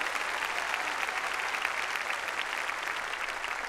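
A church congregation applauds in praise of the Lord during a Sunday sermon, a dense, steady wash of many hands clapping at once that holds evenly throughout with no pause.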